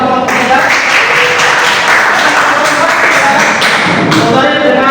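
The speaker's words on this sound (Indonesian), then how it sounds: "Tepuk tangan untuk kelompok kita" A middle school class applauds a student group after a presentation, with loud, close, continuous clapping and tapping that fills the room and a few voices mixed in.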